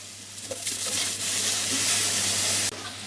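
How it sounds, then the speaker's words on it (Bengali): Pointed gourd (potol) pieces frying in hot oil in a pan, with a steady loud sizzle and hiss that flares as the gourd goes in and then cuts off abruptly near the end, with no talk. "দিয়ে দেবো পটল ভাজি করার জন্য তেল। পটলগুলো দিয়ে দেব।"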